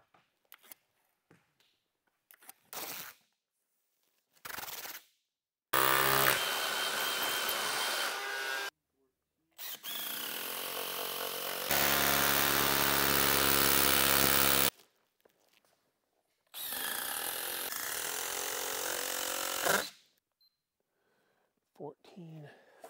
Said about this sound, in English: we're going to be cutting some studs and filling in these walls real quick.